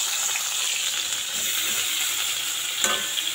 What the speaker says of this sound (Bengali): চলো আর কটা মাছ ভেজে নিই